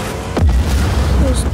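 Explosion in the video game Just Cause 4: a single deep boom bursts out near the start and rumbles on briefly.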